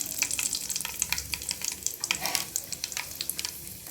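Mustard seeds and a dried red chili fry in hot oil for pirandai pickle, producing a close, steady sizzle dotted with rapid popping crackles from the seeds.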